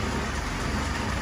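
A restored Willys CJ2A Jeep engine runs steadily during its initial break-in, a dense, continuous close-up drone with no clear rev changes or pauses across the short stretch.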